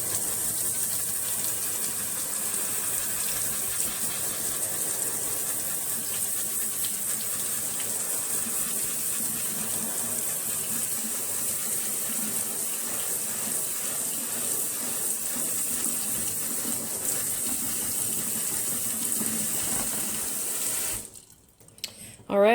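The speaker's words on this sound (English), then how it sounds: "Let's give it a rinse." Tap water runs steadily and loudly over blended tomatillo seeds being rinsed in a sink, a constant close gush that cuts off abruptly near the end.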